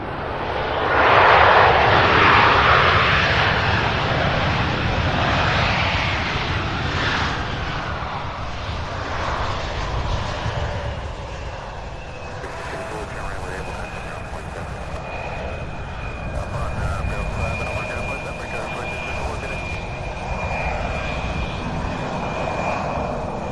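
An American Airlines jet lands at SDF airport in Louisville, Kentucky, its engine roar loud at first and then easing into a long, steady whine and rumble that fades slowly.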